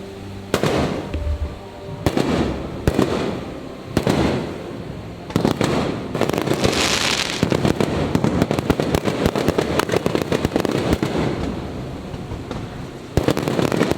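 Seen from a veranda aboard the Disney Dream cruise ship, a fireworks show sends sharp booms and crackling bursts at irregular intervals, some spaced apart and others in quick clusters, loud and moderately distant.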